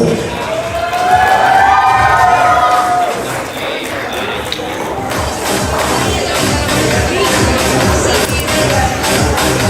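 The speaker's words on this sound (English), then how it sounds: "with a huge round of applause" Party crowd at a Sweet 16 celebration cheers and claps loudly, with whoops and shouts over a dense wash of hands; the excitement swells early, dips briefly, then carries on steadily.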